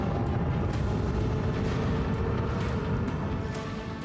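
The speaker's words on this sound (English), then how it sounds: "Show them the fury of our macro cannons. Unleash a barrage of destruction." Macro cannons firing in Warhammer 40,000: Rogue Trader, a dense, continuous roar of booming blasts layered into one heavy rumble, loud and close, with no speech.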